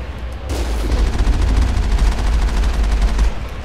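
Mass Effect turrets fire a sustained, loud barrage of rapid automatic shots over a deep rumbling bed, the bursts continuing steadily for several seconds after a sudden start.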